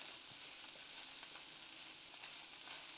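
Mushrooms and vegetables for a Philly cheesesteak fry in a pan with a soft, steady, continuous sizzle, faint and close, with no one talking.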